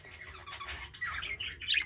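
Budgies, a sky blue opaline hen and a grey green cock, chirping in a breeding cage, with quick bright tweets and squawky calls rising and falling in short bursts, close to the listener.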